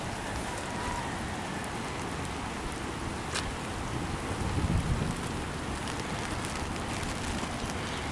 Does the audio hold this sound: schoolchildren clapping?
no